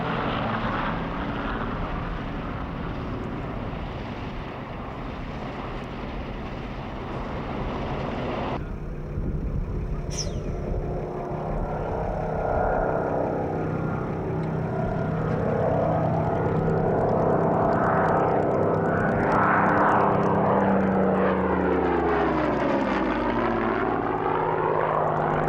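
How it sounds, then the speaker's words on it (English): A Gloster Gladiator biplane and a Bristol Blenheim fly past at the 1996 Duxford airshow. Their propeller engines drone loud and unbroken, then sweep through a rising and falling pitch as the aircraft pass overhead, with no talking. "Next came the Gloucester Gladiator and the Bristol Blenheim in its new colour scheme"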